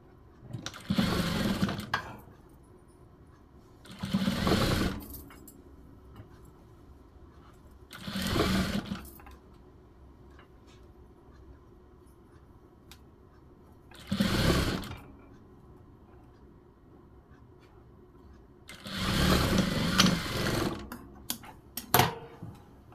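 A sewing machine stitches a folded blouse strip in five separate whirring runs of a few seconds each, with quiet pauses between them, close and fairly loud.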